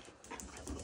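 Dogs being fed ribeye steak give a quick, close burst of eager panting and a soft whimper, lasting under a second.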